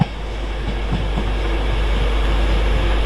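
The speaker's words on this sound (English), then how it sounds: "These 91-119 is heading down to King's Cross, and 110 is heading up to Leeds" Class 91 electric locomotive-hauled train rolling through Doncaster station on the East Coast Main Line, a steady close rumble of rail wheels and carriages sustained throughout with a low constant drone.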